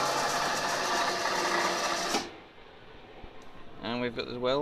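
Longitudinal seam welding machine running a weld test at 137 amps pulse: steady loud buzzing hum for about two seconds, then it cuts off abruptly, followed by a quiet workshop and someone talking.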